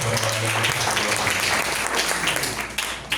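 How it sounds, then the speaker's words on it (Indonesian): A church congregation at a Sunday worship service applauding the worship singers, a dense burst of clapping that stays steady and then tapers near the end, with a voice speaking over it. "Tepuk tangan bagi teman-teman kita yang"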